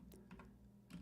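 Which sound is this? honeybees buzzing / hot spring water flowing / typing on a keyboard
typing on a keyboard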